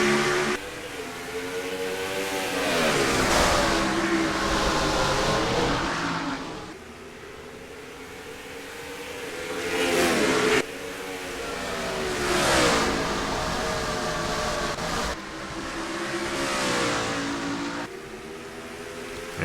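Race car engines roar and rev in repeated surging waves as a pack of cars pulls away at the green flag at Richmond Raceway in the NR2003 racing game, loud and continuous with no talking.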